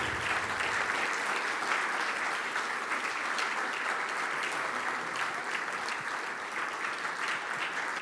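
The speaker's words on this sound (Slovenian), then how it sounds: "Zaploskajmo jim." An indoor audience at a regional chamber of commerce innovation awards event applauds steadily for about eight seconds. The clapping is dense and sustained, with no talk over it.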